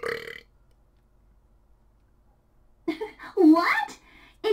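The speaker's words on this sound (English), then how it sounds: "Insert burp here." A single loud, croaky burp comes close up and is followed by a short silence, then a voice speaking.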